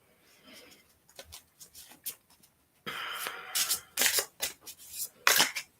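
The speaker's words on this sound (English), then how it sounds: "I'm just going to take the top card, shuffle one more." A deck of tarot cards being shuffled by hand, quiet soft riffles at first, then louder bursts of card flutter in separate short runs, close by.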